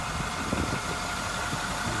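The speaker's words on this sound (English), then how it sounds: "Again, you can hear that diesel engine right along." A 2010 Workhorse Utilimaster W62 step van with its diesel engine idling: a steady, close, even rumble with a faint knocking texture and no talk.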